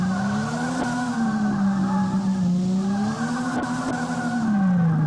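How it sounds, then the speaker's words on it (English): Default tyre squeal from the Drift 21 video game: a steady, loud, wavering synthetic screech that holds on without pause, its pitch sliding slightly up and down. "The tyre squeal is clearly just the default one that came with the game engine."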